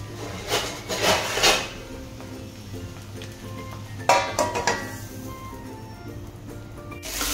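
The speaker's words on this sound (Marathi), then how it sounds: "झाकण ठेवूया यावर." A lid set down on a cooking pan of cluar beans (gavar) being stir-fried, giving a few short metallic knocks and clatters over a low kitchen hum, with a quieter rattle earlier.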